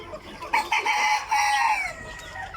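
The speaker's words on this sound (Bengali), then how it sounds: "দেখেন মশাল্লা অনেক সুন্দর হয়েছে আমাদের মুরগিগুলো মোরগগুলো" Egyptian Fayoumi chickens and roosters cluck and crow close by, a dense run of overlapping calls with one rooster's crow rising clearly above the flock.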